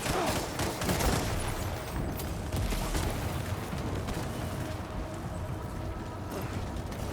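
Grenade explosions and gunfire in Death Stranding 2, a continuous loud rumbling barrage of blasts and crackling debris that stays dense and close throughout.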